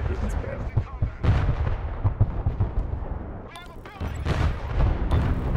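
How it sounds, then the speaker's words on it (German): A rocket artillery barrage in the Broken Arrow battle game between US Marines and Russians: repeated loud booms and rumbling impacts in quick succession, with heavy bursts near the start and again toward the end. "Und der nächste Raketenspam."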